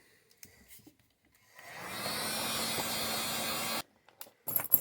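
A heat gun warms the foam pad strip of an 8-track tape cartridge, a steady blowing hum lasting about two seconds at moderate level, framed by light handling clicks before and after.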